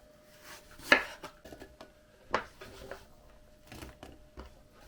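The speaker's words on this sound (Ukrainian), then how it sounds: "я буду нарізати яблучки, можна квадратиками, я буду нарізати ось такими невеличкими дольками" A few crisp knife cuts sound close up as apples are sliced into small wedges, with light clicks and clatter against a board, spaced irregularly in an otherwise quiet room.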